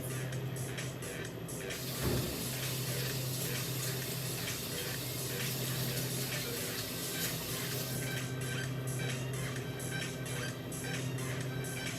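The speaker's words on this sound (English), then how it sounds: "Now let me wash my hands before we come back to our end result." Hands being washed under a running kitchen tap while making peanut butter energy balls: a steady, close rush of water with a low hum underneath, continuous for the whole stretch, with no talking.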